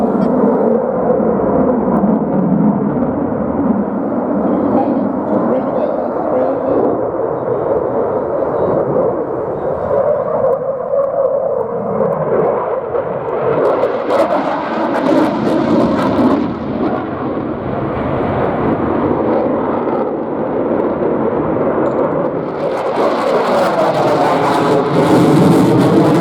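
Military jets roar through an air show display at Midlands Air Fest, a loud, swelling engine rumble that rises and falls as aircraft pass, with a sharper high-pitched jet whine building near the end.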